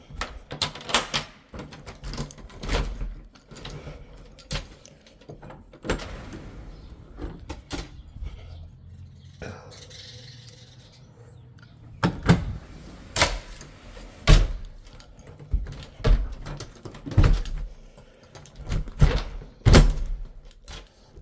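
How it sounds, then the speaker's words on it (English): A sticking house door is forced open and shut again and again, dragging on carpet, with loud knocks, thuds and scraping rubs in irregular bursts, close by, with a quieter stretch in the middle. "That door just takes some loving, a little forceful loving to get it to open and shut"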